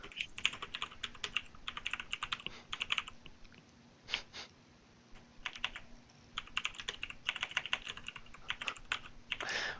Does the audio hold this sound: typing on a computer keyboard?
yes